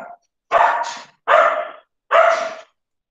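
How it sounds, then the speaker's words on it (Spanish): A dog barks three times in a steady rhythm, each bark loud and close with a short gap between, no talking over it. "Ahí mi perro también saludando."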